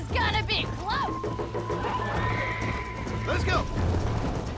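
Horses in a Red Dead Redemption race: loud whinnies near the start and around 3.5 seconds over steady galloping hoofbeats, with a voice talking across the middle.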